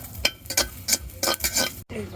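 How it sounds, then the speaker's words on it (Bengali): Green chilies are lightly roasted in a pan for chapa shutki, heard as a rhythmic series of close scraping and stirring strokes with soft sizzling between them. A short silent gap comes near the end. "চাপা শুটকি রান্না করার জন্য এখন এই যে আমরা কাঁচা মরিচগুলোকে হালকা করে টেলে নিচ্ছি"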